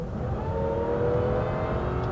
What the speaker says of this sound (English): They've added a supercharger to it to create this, the XKR, the fastest production Jaguar ever made.